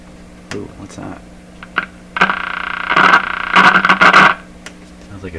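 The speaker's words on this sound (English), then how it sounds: "Sounds like a short in the plates." A Clinton 629 tube radio with a short in the plates gives off loud bursts of harsh crackling and static, sputtering in uneven clusters for a couple of seconds, with softer clicks and handling noise before and after.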